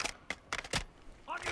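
A weapon is reloaded in Call of Duty Modern Warfare II, with a quick series of four or five sharp metallic clicks and clacks close up, then a short burst of activity at the end.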